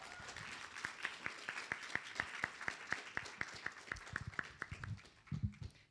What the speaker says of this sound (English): Let's give them a big round of applause as they prepare to pitch their ideas.